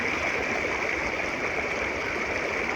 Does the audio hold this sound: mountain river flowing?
yes